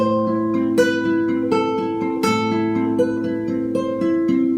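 A fingerpicked acoustic guitar passage with ringing open strings and steady, evenly plucked notes, played close and clear with no voices.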